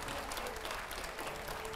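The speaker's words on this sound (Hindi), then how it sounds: "जोरदार तालियां हो जाए।" Applause from a TV studio audience during an interview show, dense steady clapping that fills the whole short stretch without a break.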